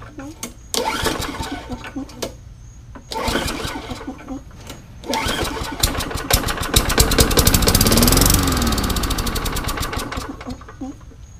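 A free Murray lawn mower with a small engine is pull-started several times: repeated bursts of cranking that sputter out, then it catches and runs with a steady loud chugging close by.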